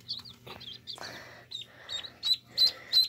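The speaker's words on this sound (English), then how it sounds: "Here's this gold duck." A gold duck calls among backyard poultry, with a run of short nasal quacks and chirpy notes that grow louder and more regular toward the end, close by, with faint background sounds.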